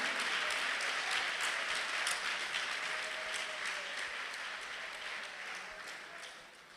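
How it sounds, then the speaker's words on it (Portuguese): Congregation in a church applauding, a dense steady wash of many hands clapping together that gradually fades toward the end, with no one speaking over it. "Pode aplaudir ao Senhor"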